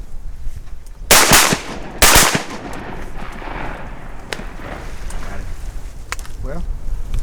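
Two loud, close rifle shots about a second apart ring out during a Mississippi deer hunt, each followed by rumbling echo, then quieter outdoor ambience with a few faint clicks and rustles.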